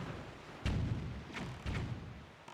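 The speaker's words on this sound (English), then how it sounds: "cannons." Cannons fire in the video game Zelda: The Wind Waker HD, two or three dull booming thuds spaced under a second apart over a low rumbling background.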